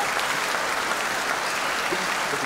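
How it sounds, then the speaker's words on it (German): Sustained audience applause welcoming a panel in a hall, even dense clapping from a crowd, loud and steady without any voices on top. "Und mit einem phonetischen Applaus begrüßen wir unsere Runde"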